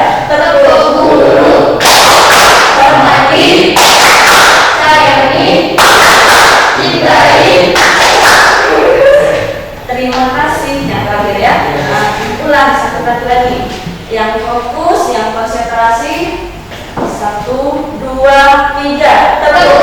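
Classroom of children doing the tepuk guru clapping chant, sharp rhythmic claps in short bursts, mixed with loud group chanting of voices.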